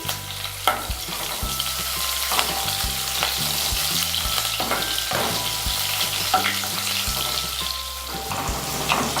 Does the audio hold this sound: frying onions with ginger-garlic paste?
yes